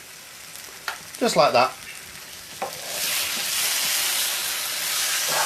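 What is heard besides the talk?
pre-cooked roti warming on a hot tawa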